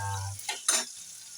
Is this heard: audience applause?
no